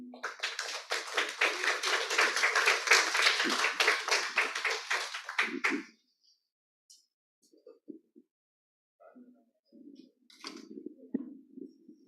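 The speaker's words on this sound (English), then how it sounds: "a big warm of applause for Maria Rosario Clarissa Singh Vergere." Audience applause at a national health policy dialogue, a burst of many hands clapping for about six seconds that stops abruptly, followed by near silence and some faint low sounds.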